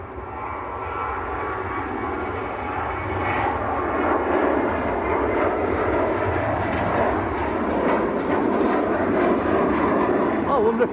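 A TUI Boeing 737-800 bound for Lanzarote takes off from Manchester Airport, its engines giving a steady, loud rumbling roar that builds gradually over the whole stretch while people talk in the background.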